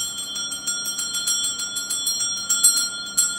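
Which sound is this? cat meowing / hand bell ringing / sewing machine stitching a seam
hand bell ringing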